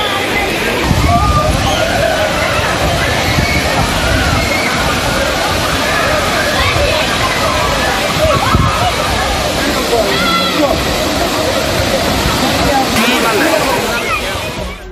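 Kovai Courtallam waterfall thronged with tourists: steady roaring rush of falling water mixed with a dense babble of crowd voices and splashing, loud and continuous throughout.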